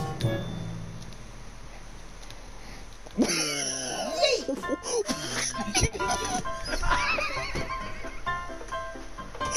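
A horse neighs and whinnies loudly in a video game, with a rising, wavering call after a quiet start, followed by clip-clop hoofbeats and game noise while people talk and laugh over it.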